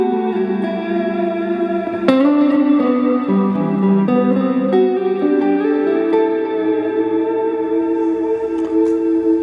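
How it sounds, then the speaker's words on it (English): A Stratocaster on the neck pickup plays a melodic electric guitar line through overdrive, modulated reverb and dotted-eighth delay, notes smearing into shimmering echoing trails, loud and continuous with no talking. "What I'm using is a modulated reverb, a dotted eighth delay, and the same overdrive as earlier."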